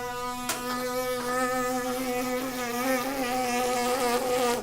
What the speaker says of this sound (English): If I take a pencil, if I buzz my lips,